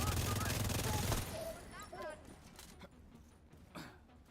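Gunfire in The Division 2, a loud burst of rapid shots up front that gives way to scattered quieter pops and bangs, with a voice speaking over part of it.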